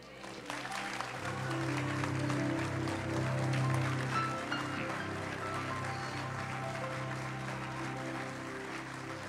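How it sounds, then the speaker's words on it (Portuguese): A church congregation applauds steadily at a worship service, the clapping sustained and full across the whole stretch while music or a held tone continues underneath. "Senhor, tu aceitarias um lindo aplauso do teu povo agora?"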